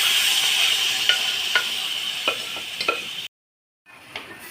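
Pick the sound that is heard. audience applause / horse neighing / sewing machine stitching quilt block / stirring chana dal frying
stirring chana dal frying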